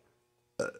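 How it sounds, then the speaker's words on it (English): A single short, loud burp erupts after a near-silent moment, close to the listener and alone. "I burped."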